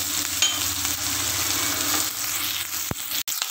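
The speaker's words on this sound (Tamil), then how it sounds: "பாருங்கள் வெங்காயம் வதங்கிடுச்சு." Onions, curry leaves and green chillies sauté in a pan with urad dal, giving a steady close sizzle and crackle that runs unbroken. A few soft stirring scrapes come near the end, and no one speaks.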